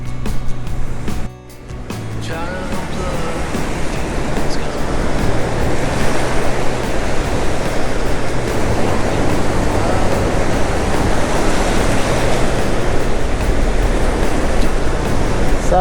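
Waves surge and wash continuously along the Redwood National Park coast, a broad roar of surf mixed with wind buffeting the microphone, after a brief dip near the start.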